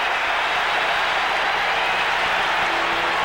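Boston Red Sox fans in a ballpark crowd during a 1978 Yankees game, a dense, steady roar of cheering and applause with no break from start to finish.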